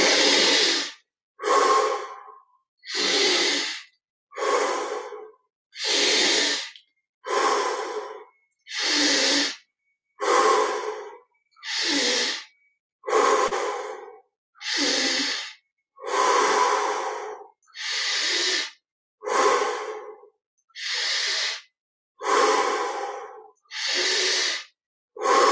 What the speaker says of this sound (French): 20 respirations profondes. Inspire par le nez, expire par la bouche.